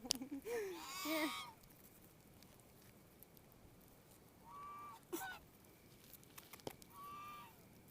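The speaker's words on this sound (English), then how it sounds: "Come here, you big old bird." Large goose-like bird honking while being hand-fed bread, a couple of loud nasal honks near the start and a few shorter calls later, with a person talking softly in between.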